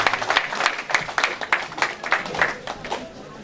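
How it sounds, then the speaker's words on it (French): A church congregation applauding during a pastor's 30th wedding anniversary celebration, steady rhythmic clapping from many hands at moderate loudness that thins out toward the end. "Acclamons pour la gloire du Seigneur."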